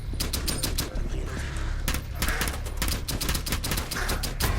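Dense automatic gunfire from the video game Rainbow Six Extraction rattles in rapid, overlapping bursts for the whole stretch, loud and busy, with no talk over it.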